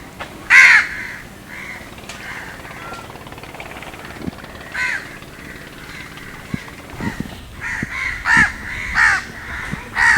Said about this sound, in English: we've still got the crows around us